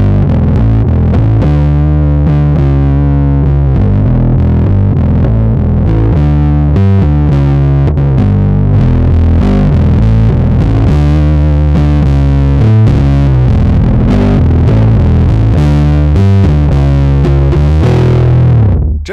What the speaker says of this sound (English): It's based on the Big Muff circuit, but it has a blend control and an extra boost for even more gain.